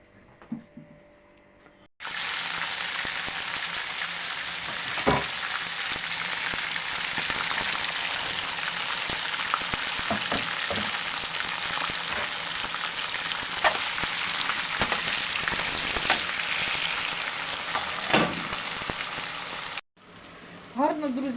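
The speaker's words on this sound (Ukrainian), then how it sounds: "підсмажилася цибулька, кидаємо моркву" Onions frying in a pan for a cabbage sauté, a loud, steady sizzle that runs continuously for most of the stretch with occasional pops and stirring sounds, cut off abruptly near the end.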